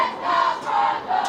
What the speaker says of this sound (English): You can tell the crowd here is ready for this game.